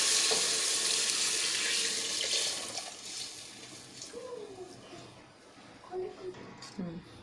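Leftover chicken stock water is poured into a pot while chicken mandi is being cooked, a strong splashing stream at first that softens and fades as a voice talks over it.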